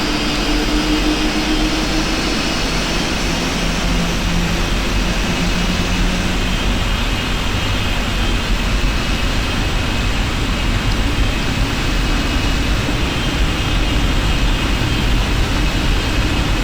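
Steady, loud jet engine roar from the PMDG 747-8F freighter in the P3D flight simulator, a constant broadband whine and rumble that holds unchanged throughout with no talking.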